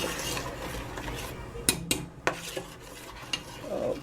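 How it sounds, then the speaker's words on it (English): A spoon stirs pectin and sugar into pepper jelly in a pot, scraping steadily with several sharp clinks against the metal sides, close and clear, with no talking. "I'm going to stir this up some, make sure the pectin is dissolved"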